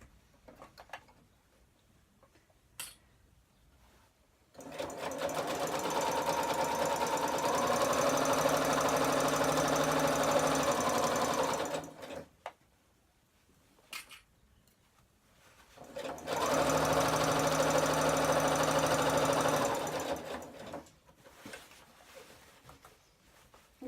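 A Butterick EB 6100 sewing machine stitches a simple bag in two long, steady runs of about seven seconds each, separated by a pause with light handling noises.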